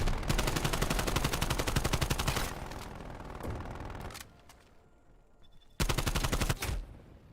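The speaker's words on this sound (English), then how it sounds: "Hostile sentry turret active. Multiple enemy sentry turrets active." Hostile sentry turrets in a video game fire rapid automatic bursts, a loud dense rattle for a few seconds, a pause of quieter shots, then another sharp burst near the end.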